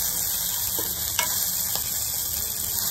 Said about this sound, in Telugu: చూసారా ఇలా మంచిగా వేగాలి.